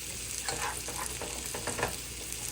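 An egg frying in a little oil at breakfast, a close, continuous sizzle with scraping and stirring strokes over it, no voices.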